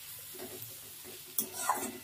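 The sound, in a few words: stirring onions frying in a pan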